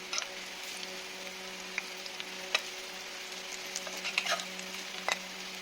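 Stuffed bitter gourd sizzles steadily in shallow oil in a pan, with occasional sharp spatter pops and soft scraping clicks as the pieces are turned over, fairly close with no talking.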